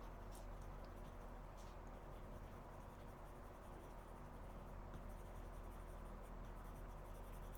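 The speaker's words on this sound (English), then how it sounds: "hold your pencil up here. I mean, I can still, go pretty dark, from up here" A pencil shades across card stock with a continuous soft scratching, steady and close, without any speech.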